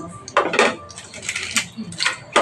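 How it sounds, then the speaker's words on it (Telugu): Whole spices go into a pot for brown rice pulao, a few light clinks and rattles against metal in short bursts, close by, with faint background noise. "ఫస్ట్ టైం నేను ఇక్కడ ఇవ్వండి దినుసులన్నీ వేసేస్తున్నాను."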